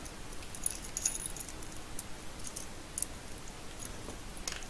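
Keys jangling in a few brief, faint metallic clinks spread over a quiet room background, no voices.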